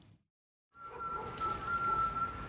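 A single steady whistled tone rings out briefly over a low rumbling background, after a short silence.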